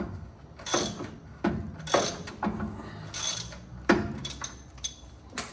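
Wrench working a front suspension bolt loose on a 1967 Pontiac GTO, irregular metallic ratcheting strokes and clinks in uneven bursts, close up with short gaps between turns.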